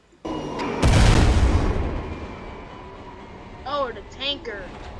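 A loud heavy boom of a train striking a tanker truck bursts out and rumbles away, followed by excited voices talking nearby.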